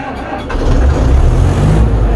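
An Ursus C360 tractor engine rumbles loudly close by, its revs rising after about half a second as the foot throttle is pressed, then holding a rough, heavy drone with no clear speech over it.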